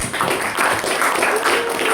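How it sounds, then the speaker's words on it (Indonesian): A short burst of group applause from a school class, many hands clapping together at a steady moderate loudness. "Yuk, tepuk tangan untuk kelompok 4"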